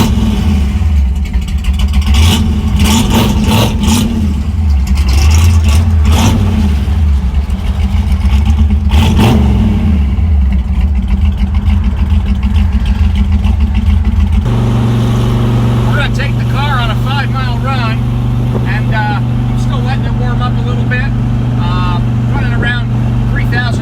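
A 1965 Ford Mustang engine running steadily and loud from inside the car as it drives off, with revs rising and falling, and someone talking over the engine note.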